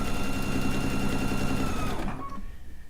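Sewing machine stitching a quilt seam, a fast steady mechanical chatter that runs continuously and then slows and stops near the end.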